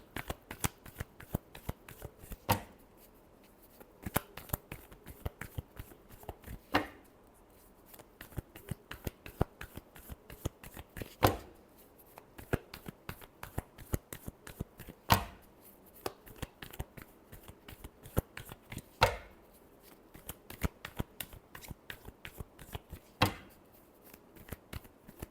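Tarot cards being shuffled close up, a steady run of quick crisp riffling snaps with periodic louder slaps as the deck is squared, no talking.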